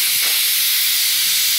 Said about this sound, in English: Now that's releasing the pressure, the steam pressure inside the pot.